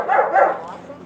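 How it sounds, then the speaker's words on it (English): A dog barking during bite training, two quick close barks followed by a fading tail, loud and alone. "So there's a bark and hold where the dog has to sit and bark and bark and bark"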